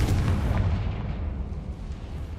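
A Confringo blasting spell erupts in Hogwarts Legacy as a loud, deep rumbling explosion that fills the whole moment and slowly decays, heavy in the low end.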